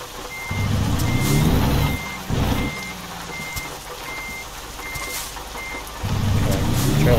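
In American Truck Simulator, a truck backs up with its trailer: a steady series of evenly spaced reversing beeps sounds over a deep engine rumble that swells and eases as it moves.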